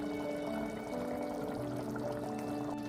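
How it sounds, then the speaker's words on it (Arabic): Olive oil poured into a cooking pot while preparing a Tunisian squash stew with beef, a steady close liquid pour running for about three seconds over a constant kitchen background. "شوية زيت زيتونة"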